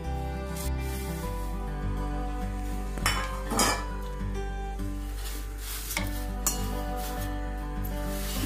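Thin poha flakes are gently tossed and roasted in salt in a pan for chivda, with scraping and clinking of a spoon against the metal pan, a few sharper knocks, over a steady low hum.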